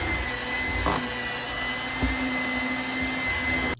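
An electric stand mixer runs steadily on low speed, mixing sweet potato pie cookie dough with flour, a constant whirring motor hum from start to finish with a couple of brief bumps partway through.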